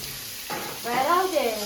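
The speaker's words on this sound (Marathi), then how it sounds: "बघा कांदा टमाटर परतून घेत आहे शुभांगी" Onion and tomato sautéing in a pan for a breakfast upma, a steady close sizzle that swells toward the end, with a brief voice sounding faintly over it.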